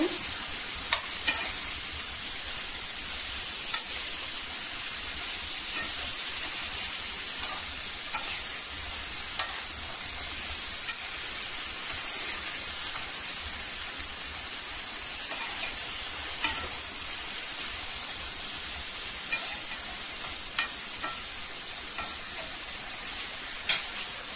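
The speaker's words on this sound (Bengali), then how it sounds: "মশলার সঙ্গে নেড়ে ছেড়ে ভালো করে মিশিয়ে নেব" Cauliflower, zucchini and beans are stirred with spices in a sizzling frying pan, a steady frying hiss with light scraping taps from the spoon throughout.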